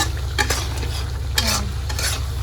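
Red lentils and vegetable stalks are stir-fried in a pan in a home kitchen, with a continuous close sizzle broken by several sharp scraping stirs of a spoon against the pan.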